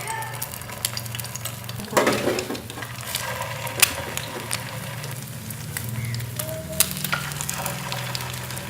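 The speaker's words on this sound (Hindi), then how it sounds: "तवे के ऊपर हम इसको फ्राई करेंगे।" Egg-dipped aloo tikki fry in hot oil on a griddle, a steady close sizzle with crackling pops and occasional scraping stirs, no voices over it.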